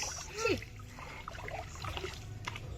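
Water poured and splashed during children's outdoor play, with trickling and splattering close by over a steady wet background, a voice and other children's voices mixed in.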